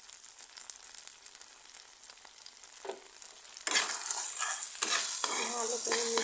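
Homemade wheat-flour noodles being stirred with soy sauce in a pan, a faint hiss at first, then louder sizzling and scraping strokes of a utensil against the pan toward the end, close by.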